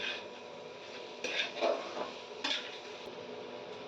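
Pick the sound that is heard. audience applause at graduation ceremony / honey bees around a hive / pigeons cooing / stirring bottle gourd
stirring bottle gourd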